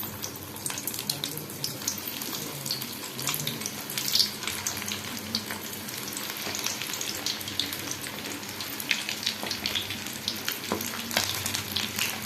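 Prawn sticks deep-fry in hot oil with a continuous crackling sizzle and occasional louder pops, steady throughout.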